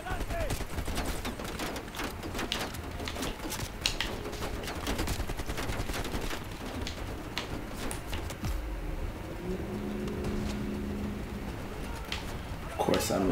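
Call of Duty Black Ops Cold War campaign firefight, with repeated bursts of automatic gunfire and scattered shots over a dense game soundscape while someone talks throughout.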